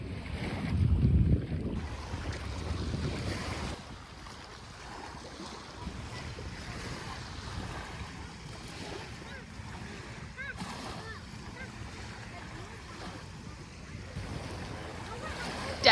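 Small waves wash gently at a calm beach on the sound side near Pensacola, a soft continuous surf with wind buffeting the microphone, louder at first, while people talk over it.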